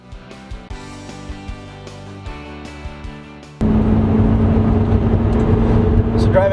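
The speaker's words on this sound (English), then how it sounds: "So driving this Vibe GT" Pontiac Vibe GT on a road trip, a steady loud road and engine drone that swells sharply partway through, with music playing beneath it before the jump.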